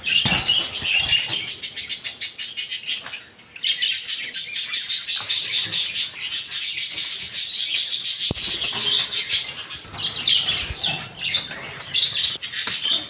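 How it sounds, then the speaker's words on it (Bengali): Caged lovebirds and cockatiels at a bird market chatter in dense, shrill, continuous chirping, with occasional wing flutters and rustles in the cages, loud and close throughout. "এদিকে আছে আরও লাভবার্ড পাখি, হলুদ কালার, সবুজ কালার। এদিকে ককাটেল পাখি আছে"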